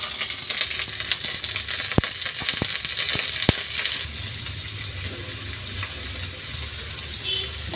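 Fish coated in masala sizzles in hot oil on a dosa pan with curry leaves, making a steady broadband crackle with a few sharp clicks in the first half, then easing to a quieter, even sizzle.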